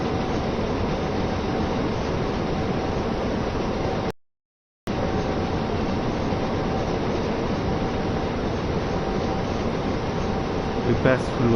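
Train running on rails in the Train Sim World 2 game on the Ruhr-Sieg Nord line, a steady loud rumbling drone with a constant tone, briefly cut out by a short silent gap, then resuming unchanged.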